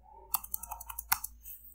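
Quick keystrokes on a computer keyboard as a terminal install command is entered on Ubuntu, about a dozen close, crisp clicks in an uneven burst after a short quiet start, no voices.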